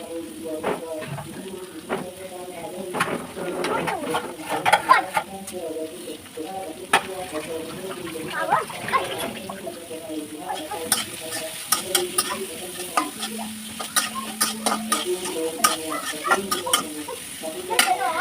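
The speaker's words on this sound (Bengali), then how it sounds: "বেশি পরিমাণে পেঁয়াজ দিলাম" Onions frying in oil for a pabda fish curry, with a steady close sizzle and repeated stirring scrapes throughout, and faint voices in the background.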